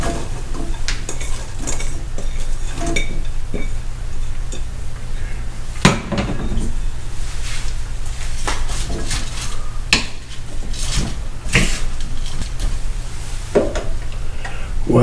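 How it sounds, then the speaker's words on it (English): Vegetables go into a squid stir-fry pan over medium-high heat, with close clanks and scrapes of utensils against the pan and scattered clicks over a low steady background hiss. "we're going to start putting in some vegetables here"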